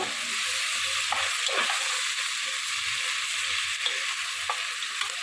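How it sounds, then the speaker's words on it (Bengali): Chicken pieces fry in a pan with a dense, even sizzle that holds throughout, broken by occasional soft stirring clicks. "এখন আমি চিকেনগুলো ভেজে নেব"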